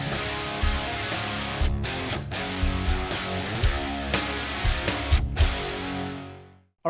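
A full stereo drum mix with kick and snare replaced using Trigger 2 plays alone, punchy kick and snare hits driving a steady groove with cymbals over it, fading out at the end.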